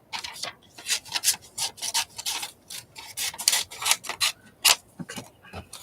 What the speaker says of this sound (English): So let's just cut the big bits off.